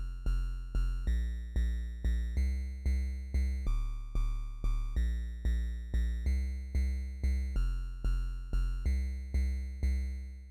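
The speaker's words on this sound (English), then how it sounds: "This will do for a nice simple little bass line." A simple chiptune bass line played on a Dirtywave M8 tracker, with steady, evenly spaced buzzy low notes that each decay quickly in a repeating pattern, loud and alone with no talking.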